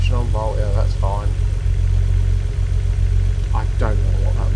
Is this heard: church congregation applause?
no